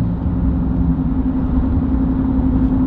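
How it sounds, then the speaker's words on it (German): Tire rolling noise from a Chevrolet Silverado pickup cruising at about 100 km/h on the autobahn with the windows shut, a loud, steady low rumble and drone with no voices. "Aber jetzt hörst du den Abrollgeräusch, ne?"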